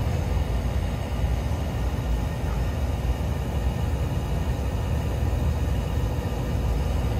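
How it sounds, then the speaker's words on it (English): A Trane gas furnace blower fan runs with a steady, dense rumbling whoosh, constant and close with no pauses, alongside the heat from a cracked heat exchanger. "Let's turn the fan back on."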